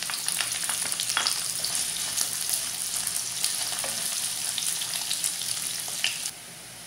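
Onions frying in hot oil in a kadhai on a gas stove, a steady close hiss of sizzling with a few stirring scrapes, running alone until it cuts off near the end.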